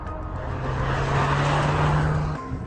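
A hot hatch lapping a race circuit, its engine holding a strong, steady drone that swells near the middle and eases off toward the end, with no voices over it.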